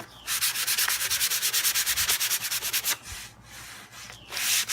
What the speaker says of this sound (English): use your fine sandpaper and come back over it just lightly